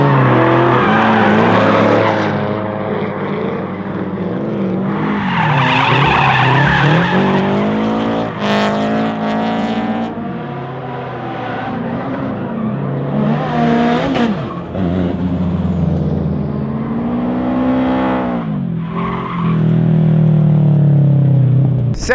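A drift car slides sideways with traction control off, tires squealing loudly in long wavering howls over the engine's revving, close and sustained with brief dips between slides.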